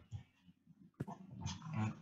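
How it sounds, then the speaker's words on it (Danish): Dog in the Minecraft video game, a few short game-sound barks and a growl-like burst, fairly close and clear with no talk over it. "jeg har altså lige en hund heroppe"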